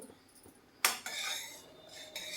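A spoon clinks and scrapes against a pan while powdered cashew is mixed into a radish dessert, with a sharp metallic knock followed by a continuous stirring scrape and a second knock near the end.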